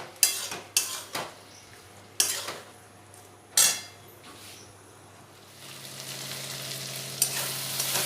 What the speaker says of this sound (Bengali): নাড়াচাড়া করে মিশিয়ে ভালোভাবে ভেজে নেব।